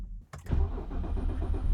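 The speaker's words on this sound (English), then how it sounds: "Cold start, we'll start with the cold start." BMW N52 engine in an E90 328i with upgraded exhaust cold-starting: a brief starter crank, then a steady low idle rumble close by.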